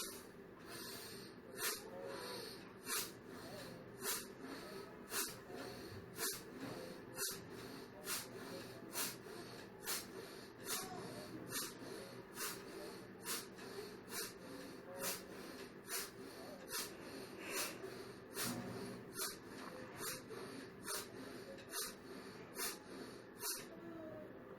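Forceful Bhastrika pranayama breaths pump steadily in and out, each sharp nasal exhalation striking in an even rhythm of roughly one per second for the whole stretch, close and clear over a quiet room.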